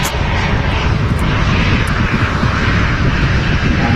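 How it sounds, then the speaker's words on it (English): Emirates Airbus A380 jet turning onto final approach at Manchester Airport, a loud, continuous engine roar with a broad rushing hiss, close and steady for the whole stretch. "that's just as the Emirates A380 turns on to final approach"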